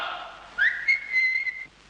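A person whistles a short rising note that settles into a sustained shrill tone, clear and close against a quiet background with no talk.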